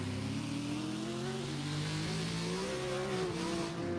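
Engines of a BMW E36 and a Corvette drifting in a sim racing competition, a steady, dense drone whose pitch wavers and rises with throttle, held at an even loudness throughout.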